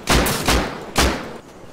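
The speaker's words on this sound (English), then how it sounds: "Oh, they're shooting from the big tower too." Gunfire in the online survival game Rust, from shooters firing off a big tower: three loud, sharp shots in quick succession, each with a short decaying echo.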